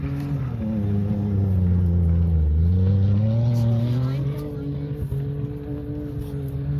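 A car drifts around a corner close by, its engine droning loudly as the pitch dips and then climbs again through the slide, with a few faint clicks and knocks toward the end.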